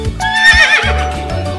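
A horse gives a loud, close neigh, and hooves clip-clop in a few heavy beats beneath it, with no talking.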